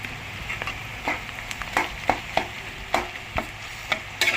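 Sliced onions fry with ginger garlic paste in a pan, a steady sizzle punctuated by regular scraping stirs of a spoon, close and alone.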